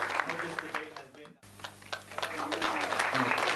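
Applause from an audience at an Asian Parliamentary Debate event, a dense clapping wash running through with a brief dropout near the middle, voices and chatter mixed in underneath.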